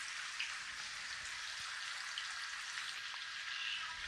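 Chicken pakoda pieces fry in hot oil with a steady, dense crackling sizzle that carries on evenly throughout, close and unbroken, with no voices over it.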